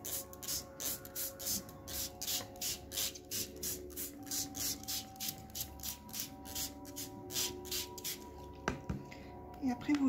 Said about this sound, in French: Vous prenez un spray d'eau